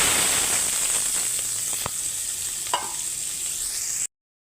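Chopped onions fry in oil in a kadai already tempered with nigella seeds and bay leaf, a loud, steady close sizzle with a couple of sharp stirring clicks before it cuts off abruptly.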